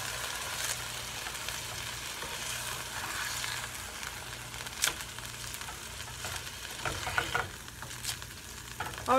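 Pork loin sizzles and fries steadily in a pan over lowered heat, a continuous close crackle with scattered sharper pops and spatters throughout.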